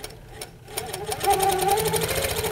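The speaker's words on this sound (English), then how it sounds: "in regulated mode, I'm going to go 10 stitches per inch, slowly and carefully" A sewing machine in regulated mode stitches slowly at ten stitches per inch, a close, rapid mechanical chatter that starts haltingly and then settles into an even, continuous run.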